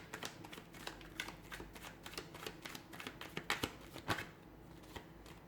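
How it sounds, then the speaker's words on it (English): A deck of tarot cards being shuffled up close, a rapid run of crisp riffling flicks and soft slaps, quiet and continuous with no talking. "Give the cards a shuffle"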